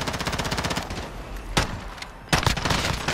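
Sustained automatic gunfire in Call of Duty Warzone rattles in fast, loud, close bursts, broken by a couple of heavier single cracks and a renewed burst toward the end.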